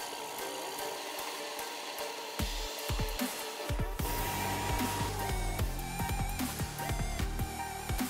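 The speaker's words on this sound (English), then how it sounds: "I'm going to snugly chuck them onto the end of a drill and then spin the drill so I can sand it nice and evenly" Power drill whirring as it spins a nut against sandpaper, grinding in short bursts with sharp scraping and rattling between pauses, close and fairly quiet.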